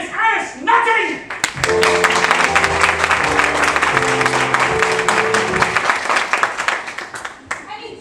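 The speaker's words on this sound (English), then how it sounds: "A warm round of applause, ladies and gentlemen, for tonight's guest artiste" A theatre audience claps and applauds for a guest performer, a male impersonator, in a stage show; dense clapping swells from about 1.5 seconds and carries on for several seconds under a sustained musical chord before tapering off.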